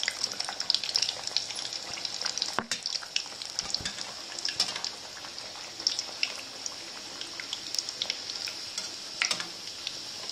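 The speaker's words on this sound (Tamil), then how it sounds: "நல்லா எண்ணெயை சூடு பண்ணி நல்லா சூடான போடணும்." Bhature dough frying in deep hot oil, a steady close sizzle with constant bubbling crackle and a few sharp pops and stirring clatters, continuous for about ten seconds with no talking.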